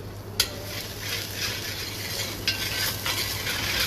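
Ginger garlic paste fries with onions for paneer rogan josh, a continuous soft sizzle under a spoon stirring and scraping the pan, with a few light metallic knocks.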